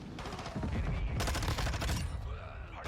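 Rapid gunfire from the video game Modern Warfare 2, dense overlapping shots and bursts filling the whole moment, fairly loud with a busy, distorted game mix.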